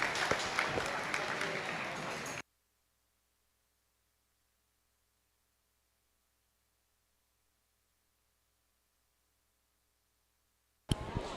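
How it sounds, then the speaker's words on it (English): Applause for young swine showmanship competitors at a livestock show: a dense burst of clapping from an indoor crowd lasts about two seconds, then cuts to silence, and a short flurry returns at the very end. "Let's give those kids a big round of applause one more time"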